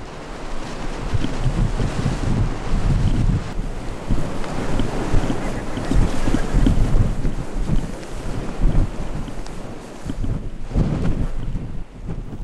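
Steady wind gusting over open grassland, a continuous broadband rush with heavy low rumble buffeting the microphone, loud and unbroken throughout with no voices.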